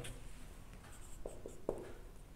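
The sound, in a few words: writing an interval on a board during a lecture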